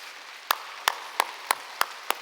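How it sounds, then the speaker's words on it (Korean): A church congregation gives six sharp, evenly spaced claps in unison over roughly two seconds, each one distinct against a quiet background. "하나님께 박수 칩시다."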